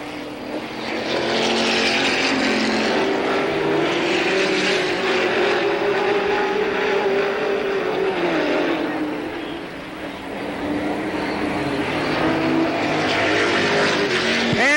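Roaring engines of late model stock cars pass close by on an oval track during a race in 1985, a continuous loud wave, the sound swelling and fading slightly as the pack sweeps past.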